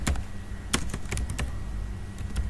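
Typing on a computer keyboard into a notepad file, a close, quick run of irregular key taps and clicks over a low steady hum.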